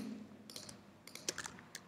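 Keys on a computer keyboard tapped in a few quick bursts of clicks, close and fairly quiet, with short pauses between the clusters and no talking.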